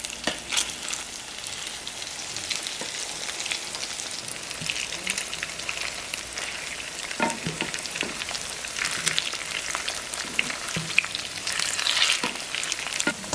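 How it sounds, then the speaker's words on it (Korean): Breaded broccoli and canned tuna patties sizzle and crackle steadily in generous hot oil in a pan, a dense, close frying hiss with occasional sharper pops. "팬에 오일을 넉넉히 넣고 하나씩 재빠르게 넣어주시고요"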